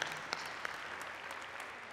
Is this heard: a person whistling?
no